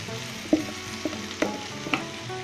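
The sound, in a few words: okra (ladies finger) frying and being stirred in pan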